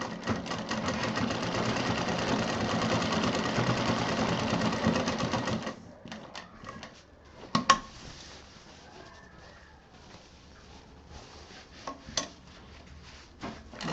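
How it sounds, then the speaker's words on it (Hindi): Sewing machine stitching a small fabric tour bag, running in a steady close whirring burst for about six seconds before stopping, followed by faint handling clicks and taps. "यहाँ पर भी हम 3-4 बार मशीन चलाएंगे।"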